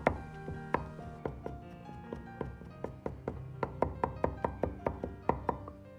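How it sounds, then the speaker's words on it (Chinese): Garlic cloves are smashed and then minced with a kitchen knife on a cutting board for vinegar-style shredded potatoes, a series of sharp, close knocks arriving irregularly, then quickening into a faster chopping rhythm. "蒜子稍微多一点，非常的提味，先拍破，然后再剁碎"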